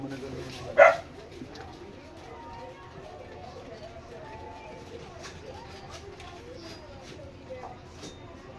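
A dog gives a single sharp, fairly close bark, followed by quiet household ambience with faint distant sounds.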